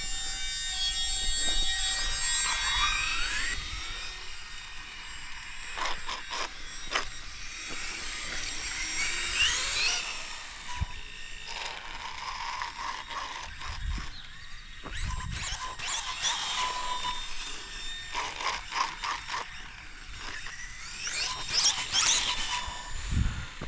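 A Losi Promoto MX RC motorcycle with a powerful LiPo battery upgrade runs with its flywheel on, giving bursts of high electric whine and buzzing that rise and fall, punctuated by sharp clicks and knocks, with no speech.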